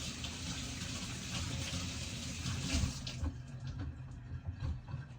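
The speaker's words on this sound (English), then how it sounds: "And I always rinse the eggs." Brown eggs rinsed under a running kitchen tap before cracking, a steady close stream of water splashing for about three seconds, then thinning to lighter trickles and drips.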